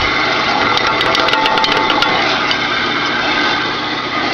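A bandsaw cuts through quarter-inch steel angle with a steady, continuous whirring grind at even intensity, nearby and uninterrupted.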